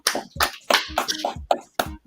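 A group's rhythmic clapping salute in a Hebrew language class: about seven sharp, loud claps spaced roughly a third of a second apart, each with a short room echo and no talk.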